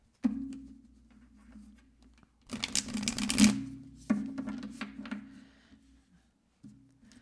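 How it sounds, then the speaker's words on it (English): Tarot cards are being shuffled by hand in short, crisp riffling bursts over a steady low hum, with one dense flurry in the middle and lighter taps around it, close and fairly quiet. "Just one more shuffle."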